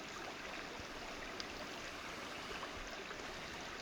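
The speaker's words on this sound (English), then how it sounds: "so that little soft gushing sound that you might hear is the creek" A creek just outside a backyard gushes in a soft, steady wash of broadband noise, faint and continuous throughout without voices.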